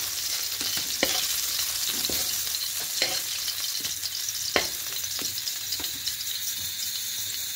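Shrimp frying in hot oil in a home kitchen, a steady close sizzle with occasional sharp crackles and pops, no voices.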